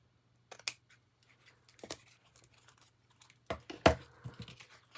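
Scissors trimming paper while making decorated envelope pockets, a few scattered close snips and light handling noises over near silence, with no talking.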